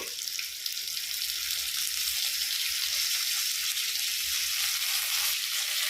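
Curry leaves, cumin seeds and tomato pieces sizzle in a pan for a dosa filling, giving a steady, loud, close crackling hiss that carries on unbroken throughout.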